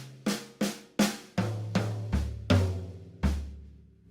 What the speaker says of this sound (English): That starts on the mounted tom, one stroke, and then goes onto the snare with the remaining